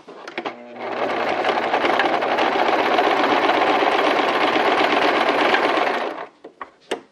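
A sewing machine whirs through a continuous run of rapid stitching for about five seconds, then stops, followed by a few soft clicks and taps.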